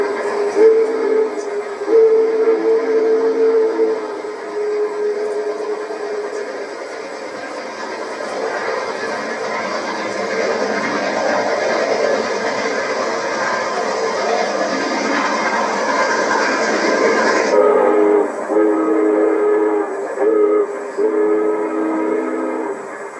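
Union Pacific 3985 Challenger steam locomotive rolling past with a long, loud whistle blast held for many seconds, then cutting off as the train rumbles on.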